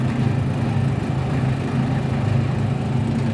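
A tractor pulling a Brown 684 rotary cutter mows grass in a field, producing a steady, low engine drone with a constant churning rumble throughout.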